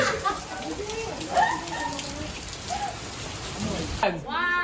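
Steady rain falls outside a house near a gate, a continuous close hiss broken by scattered drips, with a voice speaking over it and a brief louder patch of patter near the end.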